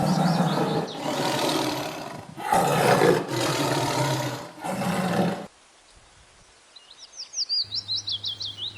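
A loud, deep tiger roar rumbles in several long bursts, followed by quieter high chirping and a rapid pulsing call.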